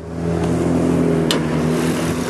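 Nissan VQ35 3.5-liter V6 in a 2007 Murano SL AWD idles under the open hood, a close, loud, smooth and steady hum with a low harmonic drone and one brief click.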